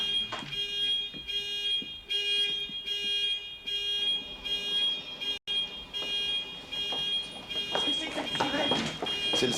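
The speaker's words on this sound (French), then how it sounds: "c'est le système d'alarme qui se remet à fonctionner" An alarm system in a factory sounds a repeated high electronic beeping tone in regular pulses, with steady background noise and people talking and moving around beneath it.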